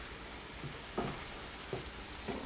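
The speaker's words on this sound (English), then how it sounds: "And don't forget to stir your apples." Apples cooking and being stirred in a pan for apple pie, a soft sizzle under a few spaced scraping stirs of a utensil against the pan, fairly quiet, with no voices.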